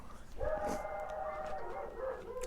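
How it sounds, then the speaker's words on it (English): A dog gives a drawn-out, tonal howling bark that wavers for a couple of seconds. It is fairly faint and heard from a distance, with no talking over it. "Oh, we got dog alert"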